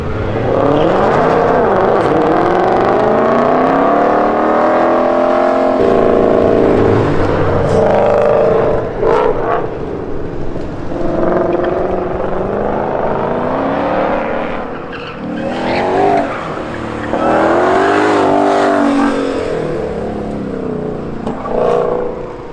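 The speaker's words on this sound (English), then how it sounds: "Here's a 500, a new GT500 ripping around right now, baby." A new Ford Mustang GT500 rips around an autocross course, its engine rising and falling through sweeping revs and gear changes with tire squeal, loud and continuous for the whole stretch.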